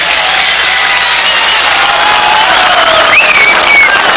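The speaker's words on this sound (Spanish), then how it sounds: "Un aplauso para nuestro presidente." Loud, dense applause from a large crowd for the president at a canal inauguration in Ayacucho, Peru, continuous throughout, with scattered whistles and faint cheers rising above the clapping.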